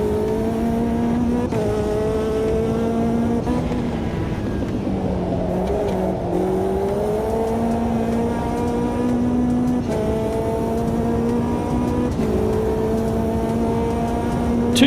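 A turbocharged 360 hp P3 prototype race car in a sim racing game revs loudly and steadily, its engine tone climbing through gears with abrupt shift breaks, close and continuous.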